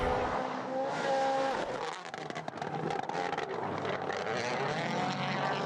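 A WRC rally car drifting at Rally Finland 2022 roars loudly past, its engine note shifting and rising with crackling bursts as it slides through the corner.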